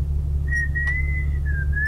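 A person whistles one sustained, slightly wavering note that starts about half a second in and continues to the end, clear over a low steady hum of background noise.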